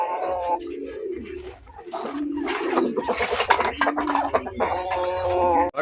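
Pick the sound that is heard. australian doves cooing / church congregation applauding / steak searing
australian doves cooing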